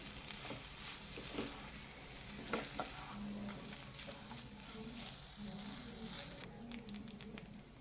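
Mango rice in a pan, stirred with a soft scraping and patter over a steady low sizzle, with occasional clinks of the spoon against the pan.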